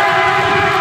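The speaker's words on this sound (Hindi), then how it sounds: "तो इस वजह से हॉर्न पे हॉर्न और क्रॉसिंग ओवरटेकिंग कर रहे हैं ये।" Vehicle horn blaring in busy city traffic as drivers overtake at a crossing: a single loud, sustained horn tone held for about a second, close by, with no speech.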